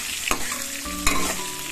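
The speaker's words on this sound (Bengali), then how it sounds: "আলু আমার ভাজা হয়ে গেছে, এখন তুলে নেব।" Potatoes fry in a pan with a constant close sizzle, punctuated by two sharp clacks of stirring and no voices.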